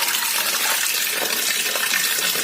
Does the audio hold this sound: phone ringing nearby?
no